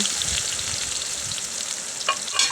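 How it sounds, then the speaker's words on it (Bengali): Steady close-up sizzling of onions frying in hot oil, a dense crackling hiss throughout with a couple of sharper pops near the end. "ওই তেলের ভিতরে আমি পেঁয়াজগুলো দিয়ে দিচ্ছি, দিয়ে আমি ভালো করে নাড়াচাড়া করে নিব।"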